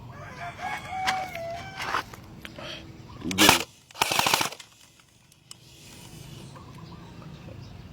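A gun fires in short bursts, sharp rapid reports clustered over a second or two, following rooster crowing and clucking in the background with someone talking nearby.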